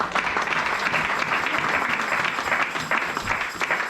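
A church congregation applauding during a Sunday service, sustained dense clapping from many hands, loud and even throughout.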